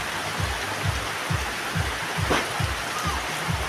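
Afternoon rain falling steadily, a soft continuous hiss of drops on surfaces with regular low thumps underneath, moderately quiet and without talk.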